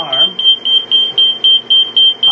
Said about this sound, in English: we get an immediate alarm